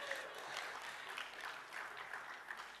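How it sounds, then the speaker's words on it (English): An audience breaks into steady applause at a director trip event, a dense field of many hands clapping at moderate distance, with no speech. "That in itself deserves a round of applause."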